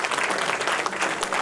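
An audience at an inaugural function claps for a former president, a brief burst of steady, fairly close applause from a crowd.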